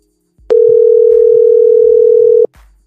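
A steady, loud electronic telephone dial tone holds for about two seconds as a call is placed, sharply starting and stopping with faint handling clicks on either side.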